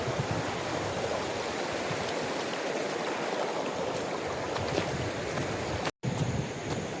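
A small stream of water from Pahine waterfall flowing steadily, a continuous even rush with no voices.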